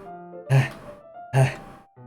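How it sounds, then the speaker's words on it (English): Two sharp breaths sucked in through the teeth in the Doki Doki Literature Club video game, close and distinct, each a brief hissing gasp with a soft tonal background in between. "It sounds like breathing. Sharp inhale, like someone is sucking the air through their teeth."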